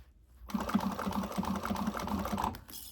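Sewing machine stitching a bag gusset, a rapid even run of mechanical ticking that starts abruptly, rattles steadily for about two seconds, then stops.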